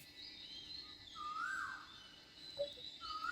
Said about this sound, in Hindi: पक्षियों के चहकने की ध्वनि,